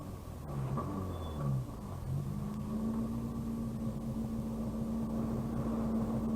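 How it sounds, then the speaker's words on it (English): A 1986 Peugeot 205 rally car on a stage of the Killarney Rally of the Lakes, its engine rumbling and revving steadily and fairly close, with a sustained tonal drone building partway through and no talk. "the camera mounted on the front of their Peugeot 205 is about to capture some dramatic footage of the first moments after Daly's high-speed"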